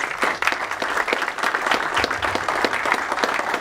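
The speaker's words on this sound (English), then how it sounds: "When I call for, give yourselves a round of applause." A standing-room-only audience at a school district parent information meeting breaks into steady applause, dense overlapping claps filling the space evenly for several seconds with no voices on top.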